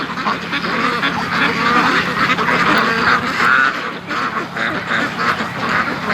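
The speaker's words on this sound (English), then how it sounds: "these ducks here, they've got a zucchini, and they're a piece of zucchini, and they're fighting over it" Free-range ducks fighting over a piece of zucchini give a steady, loud chorus of overlapping quacks from a nearby flock, with no pauses.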